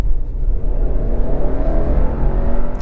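A 2022 Subaru Outback Wilderness engine pulls steadily under acceleration on the road during a handling test, a loud continuous rumble with rising harmonics and no talk.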